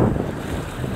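A fishermen's boat passes at sea, heard as a steady low motor rumble mixed with heavy wind buffeting and wave wash.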